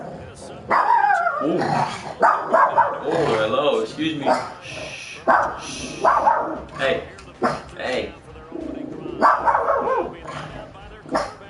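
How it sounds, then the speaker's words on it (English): A pet dog, a female, barks in repeated loud, close bursts mixed with growls and whimpers, while someone talks over the noise. "Sorry, that's my dog."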